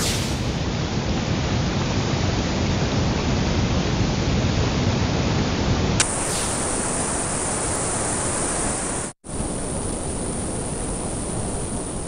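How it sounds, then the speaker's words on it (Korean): A recording of a waterfall, played as a relaxing noise, gives a loud, steady, broad rushing hiss that cuts once to a slightly different tone midway and drops out for a moment near the end. "아니, 폭포 소리."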